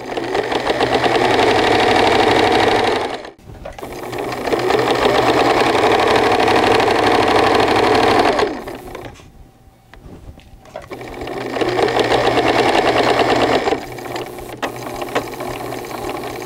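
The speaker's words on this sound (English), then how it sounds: "just move the fabric around as you're sewing it" A sewing machine stitches fabric around a curve in three long bursts of rapid, loud mechanical whirring, separated by brief pauses and a few clicks.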